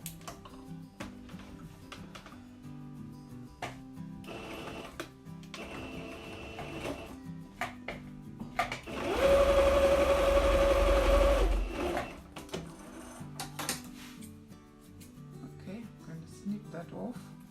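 A sewing machine runs a stitching line on a paper-bag skirt, rising to a loud, steady whir for a few seconds mid-clip, surrounded by quieter handling clicks and taps.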